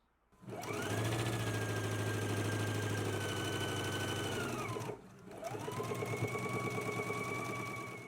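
Sewing machine stitching a lining hem close to a pressed edge, a loud, close, steady whirring run with rhythmic needle clatter, a brief pause, then a second sustained run.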